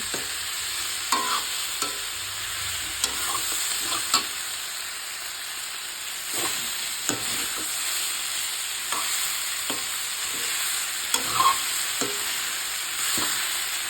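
A spatula stirs and scrapes through frying fish in a pan over a continuous sizzle, with sharp scraping strokes repeating irregularly throughout.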